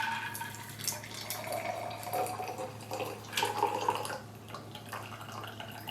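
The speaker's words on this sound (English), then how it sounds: "now we're gonna pour it in the glass." A French 75 cocktail is poured from a shaker into a glass, giving a steady close trickle and splash of liquid with a few brief drips.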